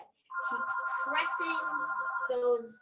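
A mobile phone ringtone plays a steady electronic melody through a yoga class, loud and continuous, with an instructor's voice talking over it.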